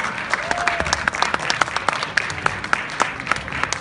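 Audience applause at a Latin award ceremony, honoring the winners of TV Show of the Year, a steady dense wash of clapping with sharp individual claps standing out, full and close throughout.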